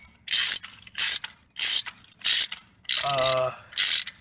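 Ratchet wrench loosening the starter bolts on a GM Pontiac 3400 V6, with six rapid clicking bursts in an even back-and-forth rhythm, loud and close, one stroke carrying a lower grinding tone.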